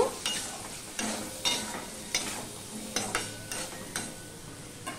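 Potatoes with salt and turmeric are stirred in a frying pan, a soft background sizzle marked by regular scraping strokes of the spatula about once a second, close and without speech.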